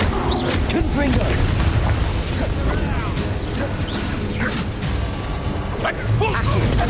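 Spell blasts from Confringo boom through a Hogwarts Legacy duel, thick and continuous with crashing impacts layered over constant combat noise, while a voice shouts spell names throughout.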